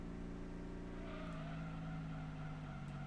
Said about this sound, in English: this car also sounds like a lawnmower